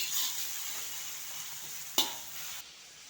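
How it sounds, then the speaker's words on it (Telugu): Ginger paste sizzles and fries in hot oil for egg fried rice, a steady close crackle with one sharp clink of a utensil against the pan before the hiss drops off. "నూనెలోనే మంచిగా ఫ్రై అవుతుంది అల్లం పేస్ట్ అయితే నూనెలోనే వేసేస్తాను"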